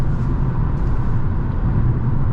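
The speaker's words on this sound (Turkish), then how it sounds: "Zaten motor sesinden emin olun ne rüzgarı ne de yol sesini duymuyorsunuz" A steady low engine rumble from inside a moving Ford Focus with about 100,000 km, constant and fairly loud, with no other distinct sounds.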